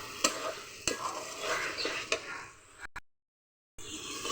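Goat meat and spice masala stir-fry in oil in a pan, with a steady close sizzle and sharp scraping strokes of a spatula, then a brief silence before the frying resumes.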